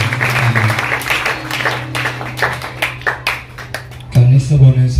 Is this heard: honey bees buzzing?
no